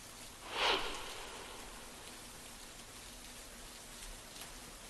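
Heavy monsoon rain falls in Mumbai as a steady, even wash of hiss, with one brief louder gust of splashing near the start before settling back to a constant downpour.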